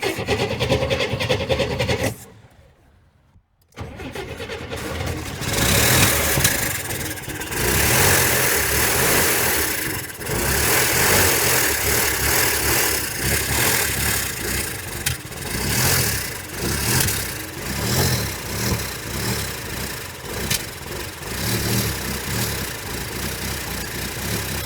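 A 1966 Corvair engine with fuel pump trouble cranks and catches after a brief silence, then runs loud and steady at a rough idle with uneven pulsing revs throughout.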